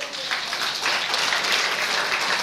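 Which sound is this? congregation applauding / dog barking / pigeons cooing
congregation applauding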